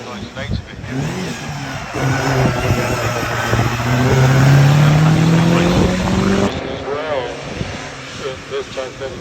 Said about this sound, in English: Formula 3 car